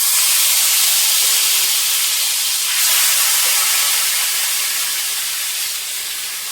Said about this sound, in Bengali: একদম অল্প তেল দিয়ে করছি ফ্রেন্ডস, একদম অল্প তেল দিয়ে, যাতে বেশি তেল তেল না হয়